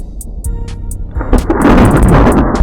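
A deep rumble of thunder, used as a storm sound effect, rolls in and swells into a loud, sustained roar over about two seconds, with faint sharp crackles near the start and no voices.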